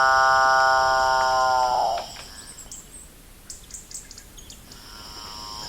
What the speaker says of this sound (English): this is obviously a very high density capuchin bird area.